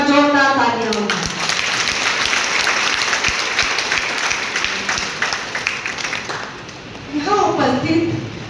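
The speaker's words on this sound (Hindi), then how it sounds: "एक बार जोरदार तालियां होंगी" Audience applause at a school Grandparents Day function, a sustained burst of clapping that swells in after a voice on the microphone, with her speech returning at the end.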